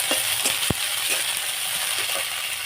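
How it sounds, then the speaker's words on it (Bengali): Beans fry in hot oil with a pinch of cumin, giving a dense, constant sizzle with a few light clicks of a utensil against the pan; no voices. "এগুলো দিয়ে বিনস একটু ভেজে নেব"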